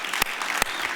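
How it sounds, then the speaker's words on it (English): Crowd applause at a community kickoff celebration event in Chicago's Englewood, Auburn Gresham and New City neighborhoods; continuous clapping with a couple of sharper claps standing out. "we can give that a round of applause"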